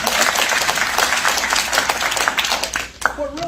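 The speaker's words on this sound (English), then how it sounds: "And that you can applaud if you'd like to." A state conference crowd gives a senator's speech loud, sustained applause, a thick wash of clapping hands that dips briefly near the end before picking up again.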